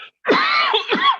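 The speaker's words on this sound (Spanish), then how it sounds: "Tengo algo de tos" A single harsh, rasping cough with a throaty, strained quality, brief and close up, following a short silence.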